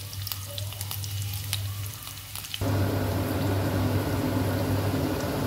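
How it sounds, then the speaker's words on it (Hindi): Chopped onion fries in a pan with a steady sizzle that grows denser and louder midway as the pieces hit the hot oil, a close, continuous hiss with faint stirring scrapes and no talking. "अब मैं इसमें ऐड करूंगी प्याज जो मैंने चॉप की हुई है। इसको अच्छी तरह से कर लूँगी फ्राई।"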